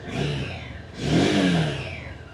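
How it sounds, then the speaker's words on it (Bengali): A Honda Hornet 2.0 motorcycle engine revs through its exhaust in two close, loud swells. The second rise is stronger, and the engine settles to a steady idle roar between them. "এক্সোস্টের সাউন্ড"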